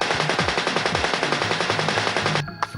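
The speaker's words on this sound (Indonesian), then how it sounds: "Gatling gun ya." In the video game Annelids, a Gatling gun fires a rapid, loud burst of evenly spaced shots for over two seconds, then stops abruptly, leaving a brief clink.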